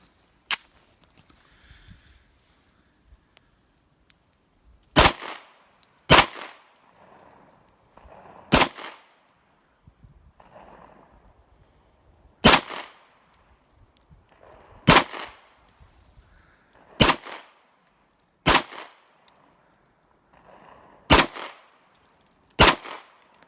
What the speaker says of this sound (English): My first shooting with the CZ.